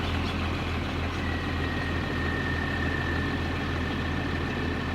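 A tractor engine idles steadily in the Farming Simulator 25 video game, a constant low, heavy rumble with a faint whine above it, running alone with no talk.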